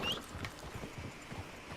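Horse hooves clip-clopping in Red Dead Redemption, a quick soft run of muffled hoofbeats that sounds faint and a bit distant, with no talk.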